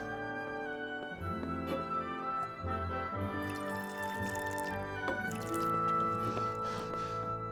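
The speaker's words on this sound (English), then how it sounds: "Pour us a drink." In the video game Kingdom Come: Deliverance, a drink is poured with soft, close dripping and trickling liquid sounds that run steadily under background music.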